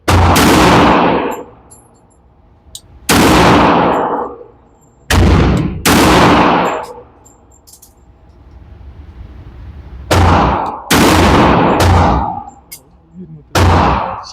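Loud, booming gunshots from a 1911 pistol at a shooting range, six heavy reports in irregular groups with echoing tails and quiet gaps between them.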